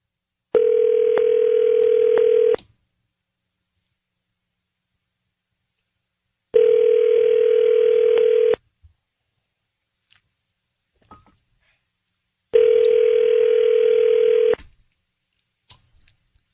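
Three long, steady telephone ringback tones, each about two seconds, spaced evenly by silences on a call to Kiss FM, with faint small clicks in the gaps.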